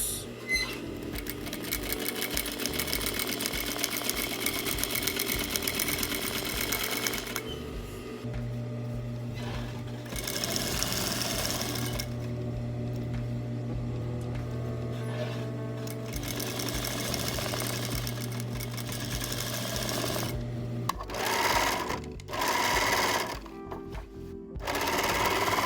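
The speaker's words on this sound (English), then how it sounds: "I'm going to sew" A sewing machine stitches pajamas in a long, continuous rapid mechanical chatter, loud and close, with brief changes in speed and a few short pauses near the end.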